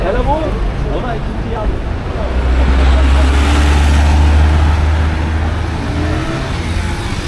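An orange motorbike passes through street traffic along a seaside road, its low engine rumble swelling in the middle and easing away amid general traffic noise, with a voice talking at the start.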